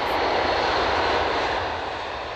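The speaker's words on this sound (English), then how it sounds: "Plane after plane hit the runway, met by workers and machines on the ground" Heavy aircraft at an airport runway at night, a loud continuous engine roar that fades slightly toward the end, with no talk.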